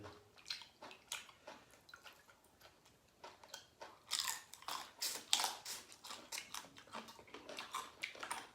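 Grilled shrimp heads dipped in mala sauce being bitten and chewed close up, with a run of crisp crunchy bites, loudest in the middle, and no talking.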